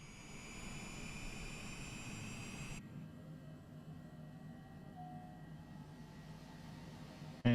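Number 2 jet engine starting in Microsoft Flight Simulator 2020, a faint, rising turbine whine with steady tonal hum, which drops partway through to a lower rumbling drone before a brief click at the end; no one talks.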